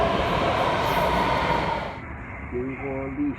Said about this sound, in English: Here's the train to the airport.